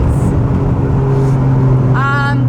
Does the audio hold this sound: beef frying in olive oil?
no